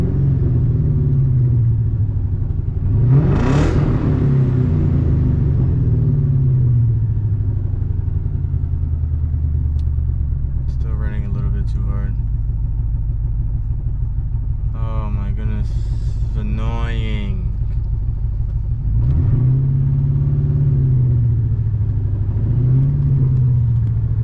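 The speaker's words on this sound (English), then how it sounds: "Okay, let's start up again and see. Dude, it's still misfiring." A car engine idles and revs with an uneven, stumbling misfire, loud and continuous throughout, with a voice talking over it in bursts.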